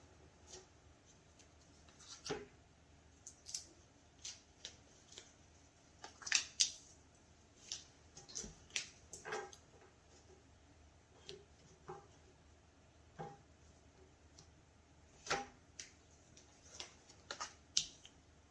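Tarot cards handled and drawn during a relationship reading, a series of sharp, brief slaps and flicks spaced irregularly, close and fairly quiet with no talking.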